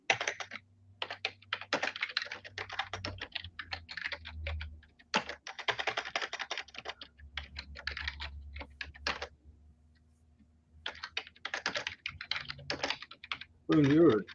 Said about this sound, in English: you're a typing maniac